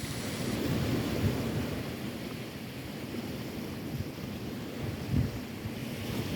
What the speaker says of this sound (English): Yeah, the water sounds nice.